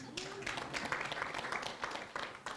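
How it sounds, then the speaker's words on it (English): A crowd applauds with dense, scattered clapping that keeps going throughout, fairly faint and somewhat distant. "So you can clap for us."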